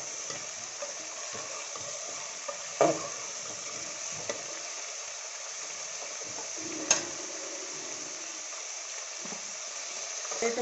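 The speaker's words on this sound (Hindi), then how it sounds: "अब टमाटरों को अच्छे से फ्राई कर लेंगे 5 मिनट तक।" Green tomatoes fry in a pan with a steady, close sizzle throughout. A few sharp clinks from stirring break through now and then.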